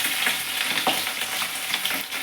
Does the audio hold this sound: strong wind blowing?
no